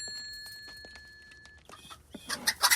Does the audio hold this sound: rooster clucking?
yes